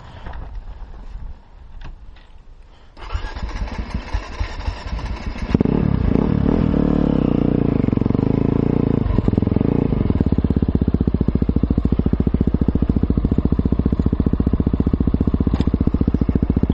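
An enduro motorcycle is started outdoors in mud and snow: quiet shuffling is followed by cranking, then the engine catches and settles into a loud, steady, close idle that continues to the end.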